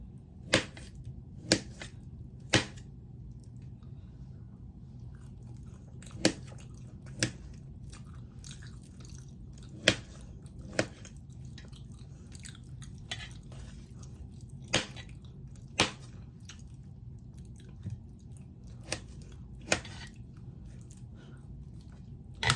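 Sweet potato is cut on a board in a quiet kitchen, each slice landing as a crisp, separate knock or crunch at uneven intervals of one to a few seconds, with soft handling noise between the strokes.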